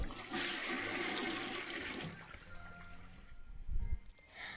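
A toilet flushing in a children's cleaning video game, a loud rushing gush of water that fills the first two seconds and then fades into trickling and splashing, with a few brief clunks near the end.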